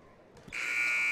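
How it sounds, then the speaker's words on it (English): End-of-game buzzer at a women's college basketball game, LCCC versus Columbus State, sounding as a loud sustained electronic tone that starts abruptly and holds steady to the end. "There's the buzzer."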